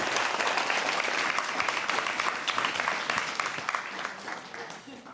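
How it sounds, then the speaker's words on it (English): An audience at a guide dog school graduation applauds puppy raisers, a dense steady wash of clapping that slowly fades toward the end, with a voice talking over it. "So another round of applause and thank you to all the puppy raisers."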